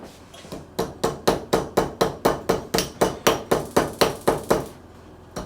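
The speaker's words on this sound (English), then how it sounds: "Can we try to hammer it to make it straighter?" Hammer blows on a piece of jewellery metal being straightened, about sixteen sharp, evenly spaced strikes in a steady rhythm, close and fairly loud, with no talking.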